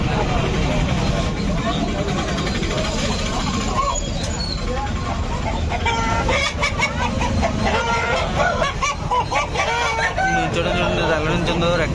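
Chickens and roosters fill a busy poultry market in Nellore with dense clucking and repeated crowing, layered over constant crowd noise while people talk nearby.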